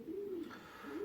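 Young pigeons cooing at an allotment loft, two soft low coos close by, quiet and alone with no talking.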